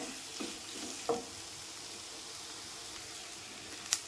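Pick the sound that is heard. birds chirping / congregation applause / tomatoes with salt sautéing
tomatoes with salt sautéing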